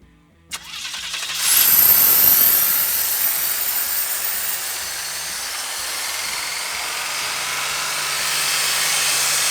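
An abandoned 1979 Chevy Nova with a barely working carburetor cranks and catches, then settles into a loud, steady idle with a strong hiss, close up and without talk.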